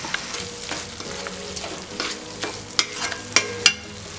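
Broccoli stir-fries in a pan for a paneer broccoli gravy, a soft steady sizzle with intermittent scraping stirs and a few sharper clacks of the utensil against the pan, close and without talk.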